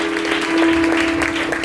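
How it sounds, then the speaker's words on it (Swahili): Young people in a Swahili church gathering clapping together, a dense continuous patter of applause throughout, with a steady tone droning underneath. "pigeni makofi vijana."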